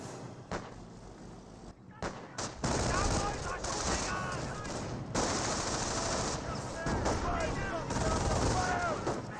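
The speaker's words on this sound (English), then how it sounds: "We've got the suppression coming out from the MG42." Sustained MG42 machine gun suppression fire in the WWII strategy game Company of Heroes, a dense continuous rattle of bursts with explosions, loud and steady after a brief start, with a caster talking over it.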